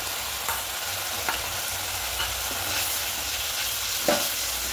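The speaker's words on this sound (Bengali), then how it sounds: "খুব ভালো করে একটু কষিয়ে নেব" Masala with whisked sour yogurt and salt sizzles steadily in a pan, a continuous frying hiss broken by occasional scraping stir strokes, close and moderately quiet, with no voices.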